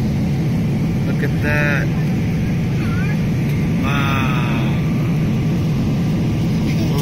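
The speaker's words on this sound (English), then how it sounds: "So we're about to land into the Manila airport." Constant loud airplane cabin rumble fills the air during descent to land at Manila airport, a broad steady engine roar while a person talks briefly over it.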